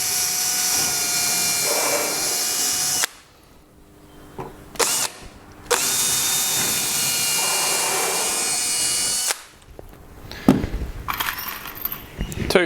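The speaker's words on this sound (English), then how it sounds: "I've got a 3mm diameter, 50mm long countersink bit" A power drill with a 3mm countersink bit whines loudly in two long bursts while assembling a drawer, with short pauses and clunks of handling between them.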